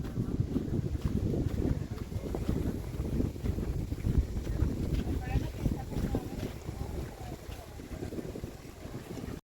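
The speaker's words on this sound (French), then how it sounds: "mais c'est venteux puis il y a du vent." Blustery wind on a beach at Santa Maria, Cuba, buffeting the microphone in continuous low gusts that rise and fall throughout, with no voices heard.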